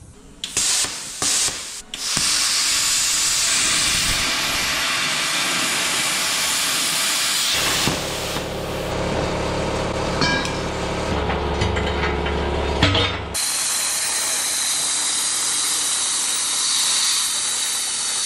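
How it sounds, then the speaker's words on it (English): A plasma cutter slices up an old steel auger, giving loud, harsh hissing and roaring bursts, with a few short stuttering starts before a long sustained cut that shifts in tone and then settles into a steadier hiss. "plasma cutter's in action"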